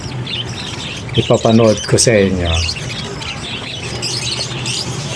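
Birds chirp and tweet in short bursts, with a few squawks, while someone speaks quietly over them outdoors.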